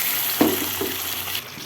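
Marinated chicken with calamansi, fish sauce and pepper hits creamy sautéed onions in a pan, setting off a loud, steady sizzle with a couple of sharp bursts as pieces land, and nobody speaks.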